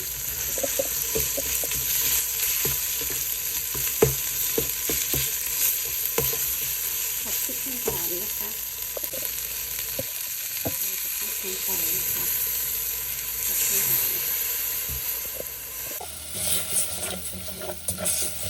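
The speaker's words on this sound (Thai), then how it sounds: "พริกลงไปคั่วในน้ำมัน" Chillies frying in oil for a Thai beef green curry, a steady close sizzle with stirring scrapes and clinks running throughout, no speech.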